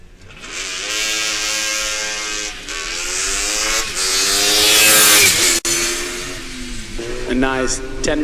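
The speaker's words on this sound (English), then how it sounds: "A nice 10-meter burnout, lovely to see." A Formula Student race car does a roughly ten-metre burnout at the FSG 2023 acceleration event. Its engine screams loud and close, with rising and falling revs and a brief cut partway through before it winds up again.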